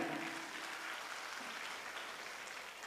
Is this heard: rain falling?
no